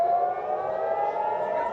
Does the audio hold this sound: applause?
no